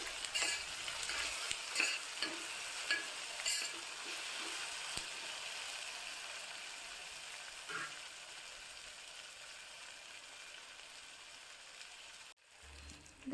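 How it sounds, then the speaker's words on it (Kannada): Peanuts, cucumber and carrot stir-fried in a pan give a steady close sizzle broken by repeated scraping stirs, cutting out briefly just before the end. "ಚೆನ್ನಾಗೆಲ್ಲನೂ ಮಿಕ್ಸ್ ಮಾಡಿ ಇನ್ನೊಂದು ಸ್ವಲ್ಪ ಫ್ರೈ ಆಗಲಿಕ್ಕೆ ಬಿಡಬೇಕು."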